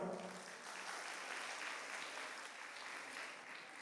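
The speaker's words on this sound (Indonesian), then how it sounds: "Tepuk tangan semua." An audience at a university lecture claps steadily, a dense wash of applause heard from a distance at low volume.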